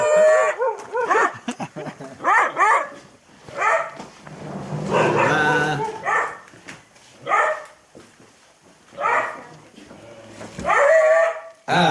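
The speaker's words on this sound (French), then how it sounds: "après tu peux plus les arrêter les chiens." Hunting dogs in Mexico barking and howling, several dogs in repeated loud bursts with drawn-out howls, close by and continuing throughout.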